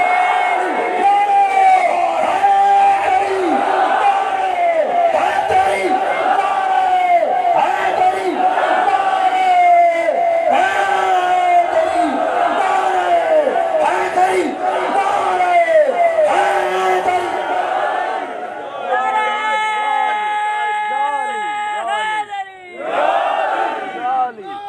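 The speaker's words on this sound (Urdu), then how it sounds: "دونوں ہاتھ بلند کر کے نعرہ حیدر کا بلند کرو" A large religious gathering in Sukkur, Sindh roars the Naara-e-Haidari slogan in unison, a loud, sustained chant of many voices rising and repeating in waves, with a lead voice calling out near the end.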